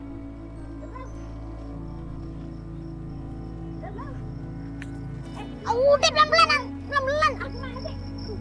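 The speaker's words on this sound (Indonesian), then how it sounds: "Itu tuh suara jangkrik berisik juga." Constant insect chirping drones in the background throughout, while someone speaks a few words and others talk faintly nearby.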